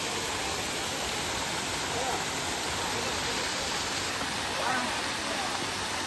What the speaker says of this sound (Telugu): ఇంకొంచెం వాటర్ ఫాల్స్ని డీటెయిల్గా చూడొచ్చు